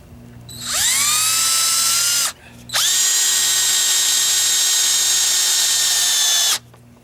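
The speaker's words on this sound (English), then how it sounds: "I put 1 screw in just to hold it in place" Power drill driving a screw into wooden chicken coop framing on a homestead, two loud sustained whirring bursts, the first about a second and a half, a short pause, then a longer run of about four seconds.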